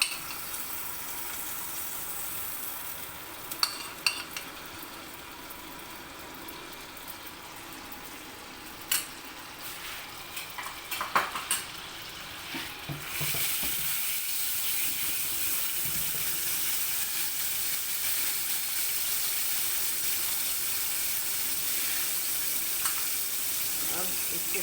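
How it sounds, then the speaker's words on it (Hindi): Butter sizzling in a hot pan with browned, caramelized bread pieces for a bread caramel popcorn snack; a steady frying hiss with a few clicks and stirring clatters, growing louder and denser partway through, no talking. "अब इसमें जाएगा 1 टेबल स्पून मक्खन"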